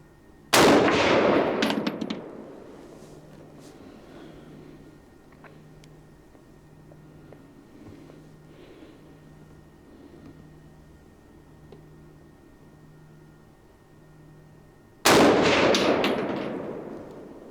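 Two loud, sharp gunshots from a Springfield Armory M1A rifle with a walnut stock at a shooting range, one at the start and one near the end, each with a ringing tail, separated by quiet with a faint rhythmic hum.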